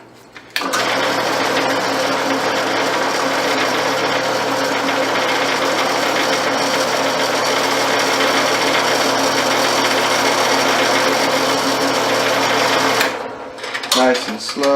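A drill bit bores a hole with cutting fluid in a fasteners lab, giving a steady, loud, high whine that runs for about twelve seconds before winding down.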